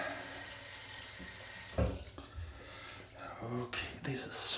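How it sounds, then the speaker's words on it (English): Warm water runs steadily from a tap during face washing, a hiss of flow broken by close splashes and rinsing. "Warm water."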